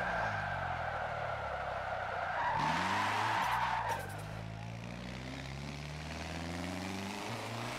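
A Nissan S14 on narrow street tires slides sideways, its tires squealing in a loud, sustained howl over a steady engine drone, with the squeal swelling in the middle before easing back into engine noise.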